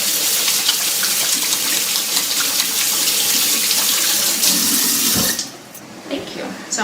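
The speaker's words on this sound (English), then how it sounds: "I'm gonna run some water and wash my hands." Water runs steadily from a sink tap while hands are being washed, a close, continuous splashing stream that stops near the end, leaving soft drips and handling sounds.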